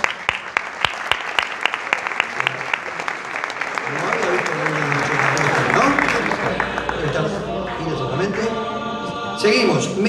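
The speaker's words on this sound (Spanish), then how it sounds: "Aplausos." Audience at an award ceremony breaks into sustained applause. Scattered individual claps grow into dense, loud clapping from a crowd, with some voices and background sound mixed in toward the end.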